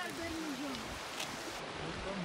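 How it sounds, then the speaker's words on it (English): A small creek flows in Waimea Valley, a steady, even rush of running water heard nearby, with people talking over it. "Little creek."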